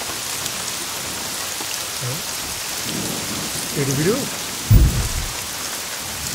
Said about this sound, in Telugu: ఎక్కడ తెచ్చాడు వీడు ఈ వర్షం ఒకటి?